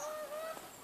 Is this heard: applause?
no